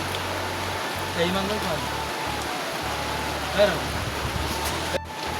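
Rain falls at an outdoor picnic as a constant close hiss, with faint voices and a few soft bumps surfacing briefly under the downpour.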